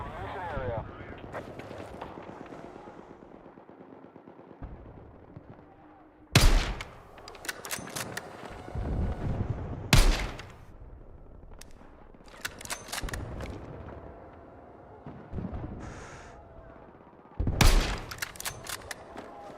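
Gunfire in a Battlefield match comes as several loud sharp shots spaced across the scene, with battlefield noise and people talking in between.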